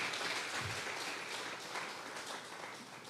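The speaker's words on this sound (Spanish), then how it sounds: "Un aplauso para el Señor" A church congregation applauds during a Sunday service, a continuous, fairly soft patter of many hands clapping at an even level throughout.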